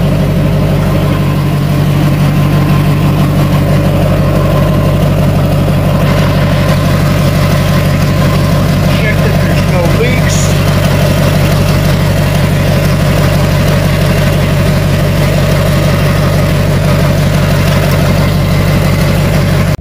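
A Duramax diesel engine idling while it warms up in a shop, a loud, even low rumble with a steady mechanical clatter that holds throughout without change.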